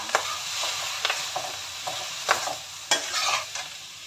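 Noodles and meat sizzle steadily in a pan, with the scrape and clack of stirring repeating every half second or so, close and moderately loud, no voices.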